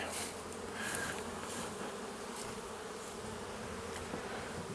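A honey bee colony hums with a dense, continuous buzz during a hive inspection of a nucleus colony, close and steady, with occasional faint clicks from the frames.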